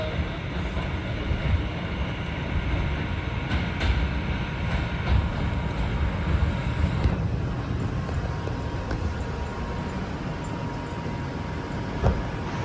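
An R142 Lexington Avenue 4 local subway train runs along the track, giving a continuous loud rumble and roar with faint rail clatter throughout.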